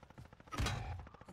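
A burst of video game gunfire rings out in a short rapid volley, with one louder booming shot in the middle over a faint rattling background.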